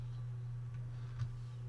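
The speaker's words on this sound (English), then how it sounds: "The noise you hear is the rotating beacon." The rotating beacon on a Piper Comanche in Microsoft Flight Simulator, a faint, soft tick over a steady low electrical hum, with one slightly stronger click near the end and no speech.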